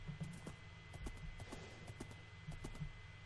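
Rhythmic clip-clop of horse hooves while riding across terrain in Minecraft, steady repeated hoofbeats at a moderate pace, fairly faint, with no talk over them.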